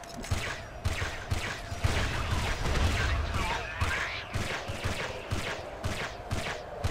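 Gunfire in the shooting game Giants: Citizen Kabuto, a run of sharp repeated shots and booms in an irregular rhythm over a constant low game rumble, loud and close throughout.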